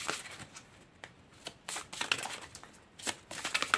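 Oracle cards being shuffled by hand in quick, irregular bursts of papery riffling and slapping, close and fairly quiet, with short pauses between handfuls.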